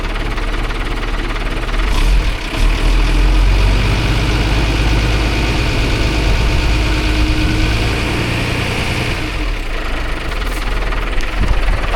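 A Mercedes 1017 4x4 truck's diesel engine idles loud and close just after starting, a steady low rumble with knocking texture running throughout.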